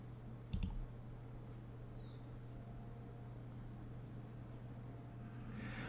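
A single quick double click of a computer mouse sounds near the start, crisp and brief, then gives way to a steady low electrical hum and faint room noise.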